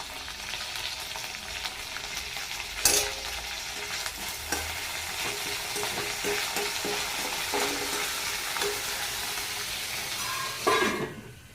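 Green chillies, dal and curry leaves fry in oil for an old-style tamarind and coriander chutney, giving a steady loud sizzle broken by occasional scraping stirs and a couple of sharper crackles.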